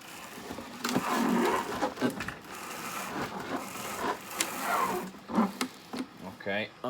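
A Malt Miller three-roller grain mill being hand-cranked crushes malt into a bucket, with irregular grinding and rattling bursts close by, broken by pauses and a little movement noise.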